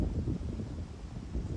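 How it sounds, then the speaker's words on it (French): Strong wind on a golf course blows as a low, steady rumble buffeting the microphone, close and continuous with no voices. "Ouais, t'as un sacré vent en plus."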